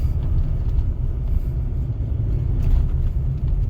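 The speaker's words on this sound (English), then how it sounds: "when I drive over this with my tracker and my van, those things sound like they're gonna rattle apart" Ford Econoline 2WD van with a suspension lift kit driving over a washboard dirt road, heard from inside as a steady, loud low rumble and vibration with faint rattling throughout.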